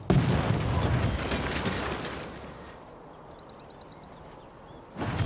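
Ranged unit shooting against a barbarian in Civilization 6, a loud volley of crackling shots and booms that fades into a quiet stretch with faint clicks before another burst at the end.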